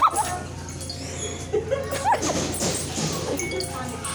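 A dog whimpering and crying in short high-pitched whines and yips, close by and fairly loud, with some background noise.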